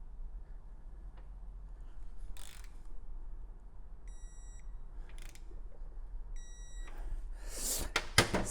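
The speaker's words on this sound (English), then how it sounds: "So we are going to torque this bolt" A bolt being tightened to 60 foot-pounds with a torque wrench using a flank-bite socket, with quiet ratcheting clicks, two short electronic beeps and a louder burst of clicking at the end.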